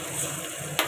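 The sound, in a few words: garlic tempering sizzling in hot oil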